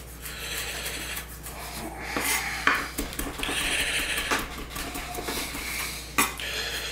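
A knife cuts ingredients for a warm potato salad on a board, making soft, irregular tapping and scraping strokes at close range over a low steady hum.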